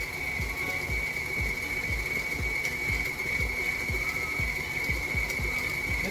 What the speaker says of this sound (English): you can hear the mixer starting to slow down because this stuff is starting to turn into a brick